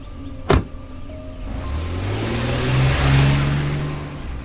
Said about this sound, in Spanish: El coche arrancó